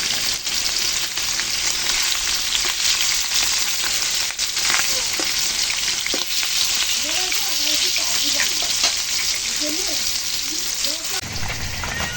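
Pabda fish frying in a little oil, a continuous dense sizzle and crackle close up, with faint voices murmuring underneath toward the end.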